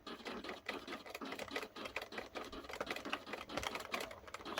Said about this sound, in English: Keep firing that machine gun.